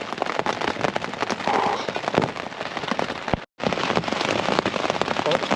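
Rain patters steadily on a tent while wild camping, a dense close crackle of drops that cuts out for a split second before resuming.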